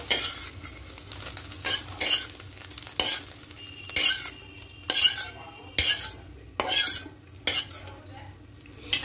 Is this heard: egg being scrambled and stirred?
yes